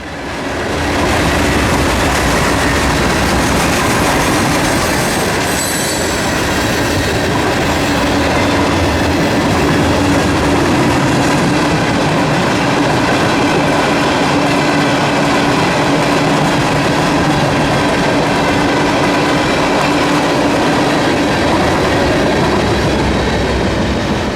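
CSX coal train with distributed power units rolling past in Folkston, Georgia: a loud, continuous roar of wheels and cars with steady rumble and faint squeal, close and unbroken throughout.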